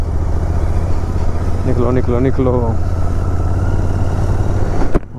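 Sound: motorcycle riding through a traffic jam

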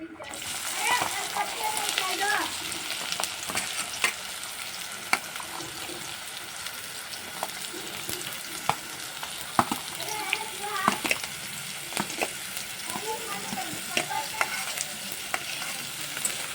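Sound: chopped onions frying in oil in a wok

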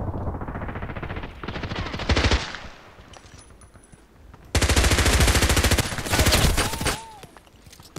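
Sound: gunshots in the video game Contract Wars

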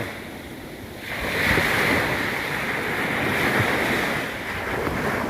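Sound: waves on a beach

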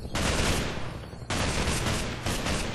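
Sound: gunfire from enemies in the video game Half-Life 2

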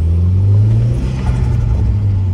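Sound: Mk1 Audi TT Quattro turbo front flutter while driving

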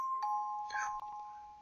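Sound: doorbell ringing in VRChat video game

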